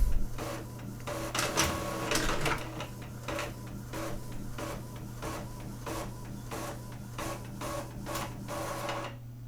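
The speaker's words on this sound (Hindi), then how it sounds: "इसके बाद जो है प्रिंटर से पेज उठाएगा और प्रिंट करके आपको दे देगा" An office printer prints the pages of an MS Word document, giving repeated rhythmic mechanical passes and feed clatters over a steady motor hum. Several bursts come one after another, close and moderately loud, with no talk.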